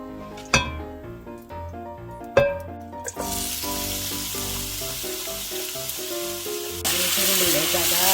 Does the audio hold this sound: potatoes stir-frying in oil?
yes